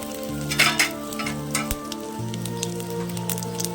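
Hot oil crackles and sizzles continuously with tempering spices and dried red chillies for a mango dal, and a few louder pops stand out near the start. The sizzle is close and steady under a faint hum.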